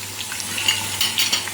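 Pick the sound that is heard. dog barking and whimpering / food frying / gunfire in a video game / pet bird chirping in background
food frying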